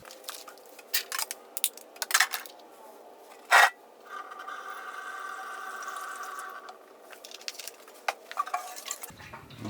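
Kerosene sloshes and swirls inside a capped fuel tank being rinsed, a steady washing rush in the middle stretch framed by scattered knocks, scrapes and one sharp clank as the tank is handled nearby.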